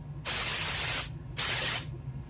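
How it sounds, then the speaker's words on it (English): Cooking spray is sprayed onto a glass in two sharp hissing bursts, each lasting under a second with a short pause between, loud and close against a quiet kitchen background. "you want to spray your glass to, you know, keep the stickiness off"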